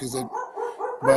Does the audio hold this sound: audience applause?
no